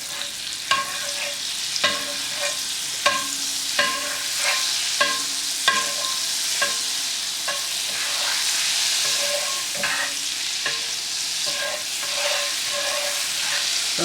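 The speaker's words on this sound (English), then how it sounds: "And I'm going to put butter in here." Butter cooking in a pan, a continuous sizzle punctuated by regular sharp taps and scrapes of a utensil against the pan, close and without speech.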